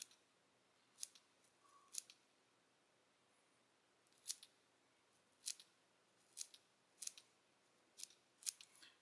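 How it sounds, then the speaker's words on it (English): Curved Fiskars scissors snip deer hair on a Goddard Caddis dry fly, giving a series of about a dozen crisp, close, faint clicks in small irregular clusters against a quiet background. "these are just those curved Fisker scissors."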